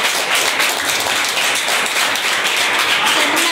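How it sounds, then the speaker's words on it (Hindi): A group of children keep up a steady, dense round of clapping for the whole stretch while watching the Aditya-L1 solar mission launch on a PSLV rocket. The applause is even and fairly loud, with no pauses. "ताली बजाइए।"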